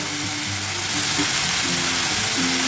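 Tomato paste hitting a hot pan of sizzling ingredients for chicken thukpa, a steady broadband frying hiss with low background hum, close and continuous without any talking.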